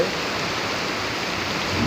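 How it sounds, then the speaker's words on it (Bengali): Heavy rain pours down steadily in Bangladesh, a dense, unbroken hiss that holds at a constant loud level throughout, with no voices. "আর যে হারে বৃষ্টি নামছে"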